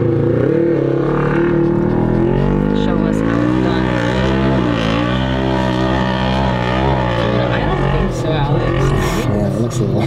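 A car engine drones and strains under load while climbing a slope at a dispersed campsite, holding a loud, wavering tone throughout as people talk over it.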